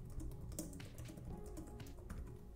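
Typing on a Framework 16 laptop keyboard produces soft, rapid, irregular key clicks, fairly faint under a steady low background hum, with no voices.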